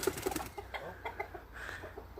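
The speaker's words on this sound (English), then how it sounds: "today I spotted a cockerel that escaped and another nice hen that escaped" A cockerel and hen that escaped onto an allotment cluck in short, close bursts over about two seconds of faint outdoor background.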